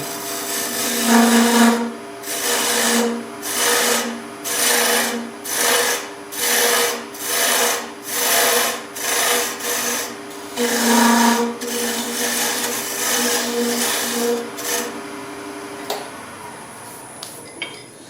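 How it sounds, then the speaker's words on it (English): Wood lathe spinning a tool handle blank while a parting tool cuts in, a steady hum with a series of pulsing scraping cuts, close and loud, then the motor running alone near the end. "So go ahead and turn the lathe on."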